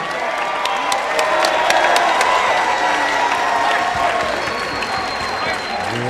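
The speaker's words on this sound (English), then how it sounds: "let's have a nice round of applause for both fighters" A crowd at a bare-knuckle fighting event in Miami applauds and cheers steadily throughout for both fighters, with scattered whoops and sharp claps rising above the sustained clapping.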